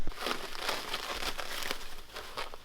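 Protective wrap is peeled and crinkled off the hood and fenders of a new 2019 JDM Subaru STI front end, giving a steady, close rustling and crackling of plastic film with no pauses.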